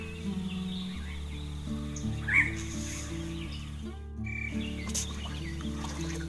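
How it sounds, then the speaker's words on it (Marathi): Birds call outdoors, with scattered crow-like caws and chirps rising over a steady low hum and tonal background, fairly faint and without speech. "पक्षी ओरडतात."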